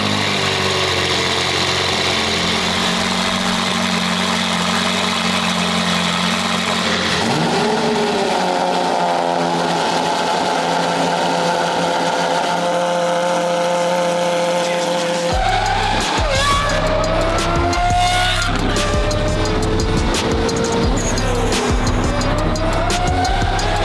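A Lamborghini Countach engine cold-starting and revving, loud and close, with a churning crank, a catch and rising roars settling into a rough idle before sharper blips of the throttle.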